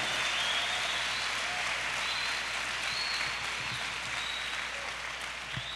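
Church congregation applauding loudly during a sermon, a thick, sustained roar of clapping that holds steady throughout, with a faint tonal hum beneath and a couple of sharp knocks near the end.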